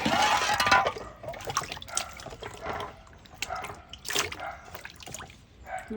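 Water splashes and drips while chopped young jackfruit is washed by hand, with irregular close trickles and splashes, some louder bursts among quieter drips.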